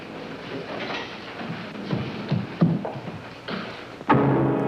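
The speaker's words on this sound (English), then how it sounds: "Subway just pull in, or?" A subway train pulls in, rumbling with rhythmic clatter and a few louder thumps of cars, ending in a sharper clank, heard close by without voices.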